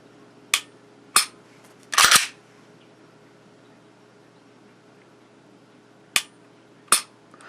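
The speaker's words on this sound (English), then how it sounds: "for a Glock, you can't do anything about that twang sound" A Glock pistol trigger set at about 3 pounds, dry-fired in a quiet room: five or six sharp, isolated metallic clicks, with one doubled snap near the middle.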